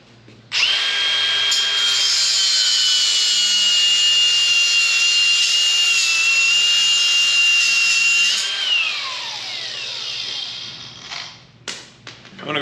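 A power tool cuts off a bolt on a farm implement, giving a loud, steady, high-pitched whine with a shrill tonal scream that holds for about eight seconds, then drops away into scattered clanks and rattles.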